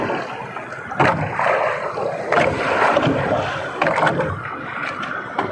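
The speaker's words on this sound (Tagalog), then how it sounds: "Magalaw yung dagat." Rough sea slaps and surges around a small fishing boat out squid fishing, with heavy wave splashes hitting at intervals over a constant rushing background of water and wind.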